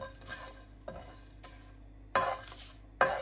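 Whole biryani spices for a homemade kofta biryani masala are gently heated and stirred in a pan. A few soft scraping stirs come in short bursts with a faint sizzle, close and quiet, with no talk.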